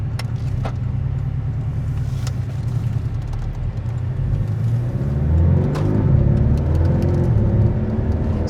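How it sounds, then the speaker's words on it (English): A 2019 Porsche 718 four-cylinder boxer engine with a PDK gearbox burbles low and throaty while driving. The rumble is steady, swells slightly toward the end and stays close and prominent, with a few faint clicks and no talk. "Some nice burbles from this Boxster 4-cylinder."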